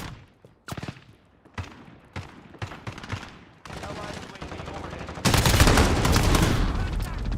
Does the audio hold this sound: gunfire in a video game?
yes